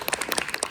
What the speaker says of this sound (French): Un tonnerre d'applaudissements pour Sarah